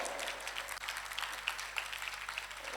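Applause from a church congregation during a Corpus Christi Mass, a steady, moderately faint patter of many hands clapping that continues for a few seconds without talk.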